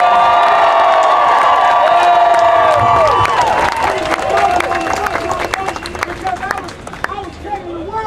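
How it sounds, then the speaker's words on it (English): A protest crowd at a No Kings rally on June 14, 2025 applauds and cheers loudly, with a steady wash of clapping, whoops and shouts filling the space throughout. "Y'all give yourselves an applause."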